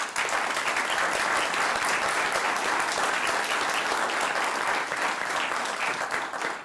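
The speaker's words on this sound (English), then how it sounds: "Please give him a round of applause." A council chamber audience in Chula Vista, California, applauds a civic honor with a dense, steady wash of clapping that holds at an even level throughout before tapering slightly at the end.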